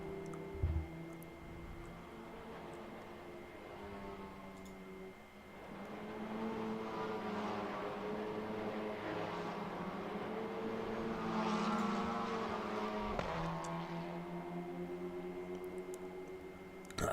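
A C3 Cupra race car in a racing video game brakes into the first corner at Mugello, its engine note falling and rising in steady harmonic tones over a continuous hum, with a couple of sharp clunks.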